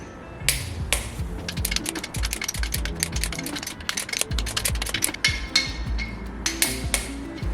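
A torque wrench tightens bolts on a Mazda RX-8 rotary engine with a bridgeport port job, giving a run of sharp metallic clicks and ratcheting taps over faint rubbing, close and irregular, with no talking.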